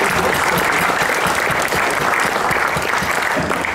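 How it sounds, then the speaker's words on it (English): An audience at a community program talk on living wills and power of attorney gives a loud, sustained round of applause, dense close clapping throughout with no speech. "Give Kelvin a huge round of applause."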